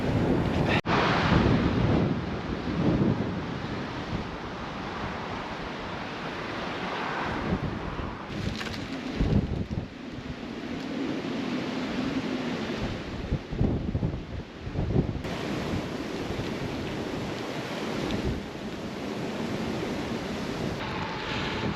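Strong gusty wind on a cold, wet January day buffets the microphone with loud roaring bursts and rumbling, rising and falling over a constant rushing background.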